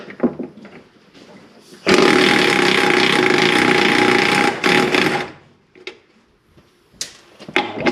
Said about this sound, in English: head up top and release the 3 15mm bolts